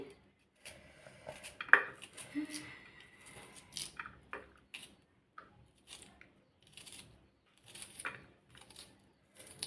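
Knife cutting onion in a home kitchen, a series of soft, close chopping taps and scrapes on a board with pauses between, while someone talks quietly.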